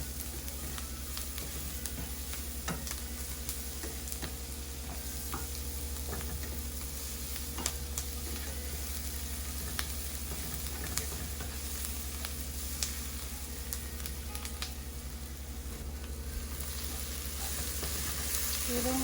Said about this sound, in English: Let it fry a little bit.